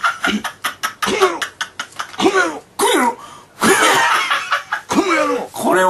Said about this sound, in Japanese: 咳払いがこの野郎って聞こえるんだ。